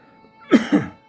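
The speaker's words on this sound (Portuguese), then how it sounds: "Desculpe a tosse aí de madrugada" Two quick coughs in close succession, fairly loud and near, from a man reading scripture aloud in Portuguese in the early morning; no other voice around them.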